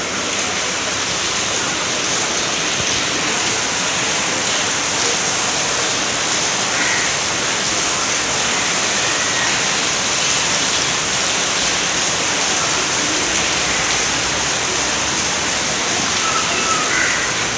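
Heavy monsoon rain pours steadily outside a flooded residential building, a dense continuous hiss of falling water at a constant loud level with no breaks.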